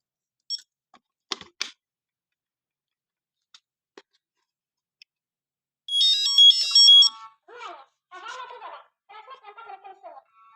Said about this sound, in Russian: Оповещение запустилось.